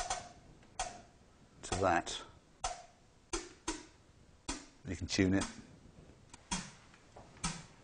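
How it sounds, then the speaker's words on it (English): Synthesized snare drum built from filtered white noise on a System 100M modular synthesizer, sharp noisy hits repeating in a steady rhythm with a brief talking voice between some strikes. "and that's kind of a simple, you know, snare drum sound."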